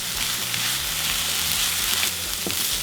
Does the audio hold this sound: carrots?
yes